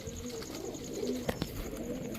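Pakistani Teddy pigeons in a loft giving soft, faint coos, with a couple of brief sharp taps or clicks in a quiet room.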